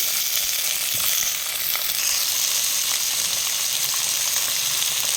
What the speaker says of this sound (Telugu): కాస్తంత పచ్చి వాసన పోయేంత వరకు టమాటా కూడా కాసేపు అలా మగ్గనిద్దాము